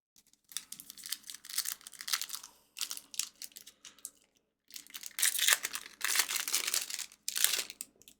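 Crinkly plastic foil wrappers of trading card booster packs being torn and crumpled open, close and fairly loud in several bursts separated by short pauses.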